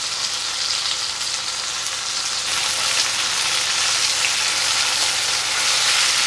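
Tomatoes are tipped into onions frying in a pan for pasta all'amatriciana, with crushed red pepper nearby, producing a loud, constant close-up sizzle with no pauses and no talking.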